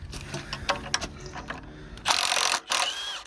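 Milwaukee M18 Gen 2 mid-torque cordless impact wrench hammering on a bolt at a salvage yard, with close ratcheting mechanical bursts and a louder sustained run of impacts near the end.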